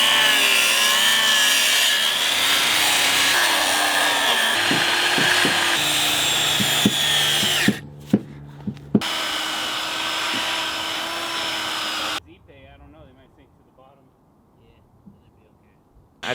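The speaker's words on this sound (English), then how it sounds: "So we've got a little Makita strip sander," A Makita strip sander whines loudly and steadily while sanding the edges of deck boards on a curved dock, then cuts off abruptly, leaving a much quieter stretch.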